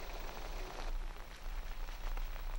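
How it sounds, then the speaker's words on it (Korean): Rain falls at night deep in the Tian Shan mountains of Kyrgyzstan, a steady close hiss of drops pattering on a surface that continues unbroken throughout. "그날 밤 비가 내렸다."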